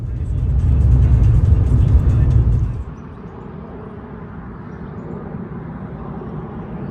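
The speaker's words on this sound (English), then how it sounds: "That's an Air New Zealand A320neo from Sydney, Australia, doing a go around." An Air New Zealand A320neo jet from Sydney doing a go-around near Lake Hayes, Queenstown: a loud, broad engine roar for about three seconds, then it drops to a steady, lower rumble.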